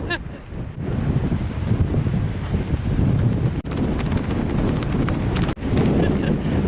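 Strong, gusty wind buffets the microphone in a steady roar on a high mountain trail in the Sierra Nevada, with a couple of brief dropouts as the gusts shift.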